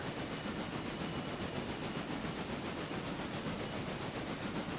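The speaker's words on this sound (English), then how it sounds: "This train just doesn't seem to be moving very well." A train rolls slowly in the Railroader video game, a steady, dense rumble and hiss of rail noise that holds at an even level throughout without pause.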